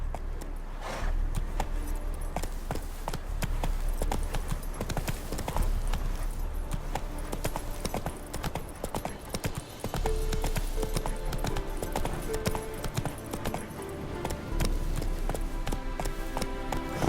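Horse hooves clip-clopping at a steady riding gait in The Witcher 3: Wild Hunt, continuous rhythmic hoofbeats with game music and ambience underneath.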